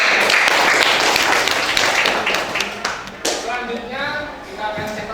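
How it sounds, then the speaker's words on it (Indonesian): A group in a classroom gets a burst of clapping from many hands, dense and close. It fades into scattered claps and shuffling as a voice starts talking. "Oke, beri tepuk tangan untuk kelompok."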